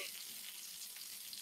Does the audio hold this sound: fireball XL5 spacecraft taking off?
no